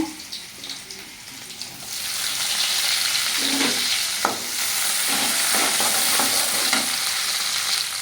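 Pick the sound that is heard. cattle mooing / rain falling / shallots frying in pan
shallots frying in pan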